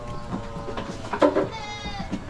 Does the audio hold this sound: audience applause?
no